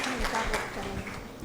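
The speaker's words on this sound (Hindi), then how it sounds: "सो इसके लिए ज़ोरदार तालियां सभी आज के प्रतिभागियों के लिए" An audience at a birthday celebration event applauds the day's participants, a dense, steady wash of clapping that holds at full strength and then thins slightly toward the end, with some voices mixed in.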